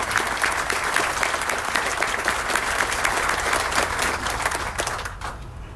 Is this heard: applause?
yes